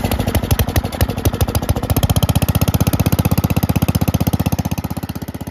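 A Cub Cadet Original garden tractor's pull-start engine, choked, catches with a few uneven chugs and then settles into a loud, close, steady rhythmic thumping run.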